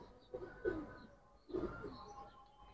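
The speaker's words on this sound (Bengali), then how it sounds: "এটা একটা মাদি কবুতর।" A female pigeon gives two soft, low coos about a second apart, close by and quiet.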